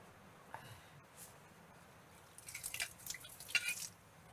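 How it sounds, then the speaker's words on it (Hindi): Water drips and splashes as a plate and spoon are washed, quiet at first, then a brief flurry of clinks and trickles near the end. "मैं अपना प्लेट और चमचा धो रही हूँ।"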